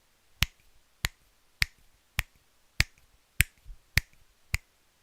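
Eight sharp finger snaps ring out at an even, steady pace, each crisp and close, with nothing else heard in between.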